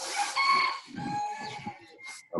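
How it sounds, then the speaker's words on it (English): A rooster crows in the background around midday, a drawn-out, harmonic call rising and falling over a couple of seconds, fairly loud, followed by a brief higher note and a short burst at the end. "Apologies for the rooster in the back."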